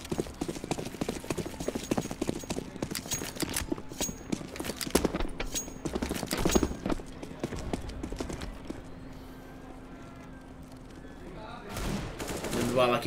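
Counter-Strike: Global Offensive gunfire crackles in sharp, rapid bursts of close and mid-distance shots, trailing off into a lull before a final volley, with a commentator talking over the action.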